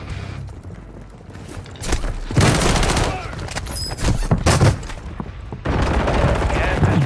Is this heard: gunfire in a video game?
yes